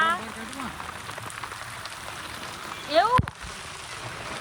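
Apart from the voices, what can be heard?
rain falling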